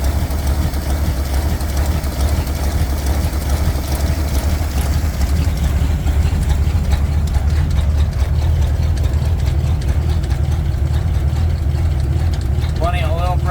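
An old mystery vehicle's engine idles steadily and loudly up close, a low continuous rumble, with someone talking over it.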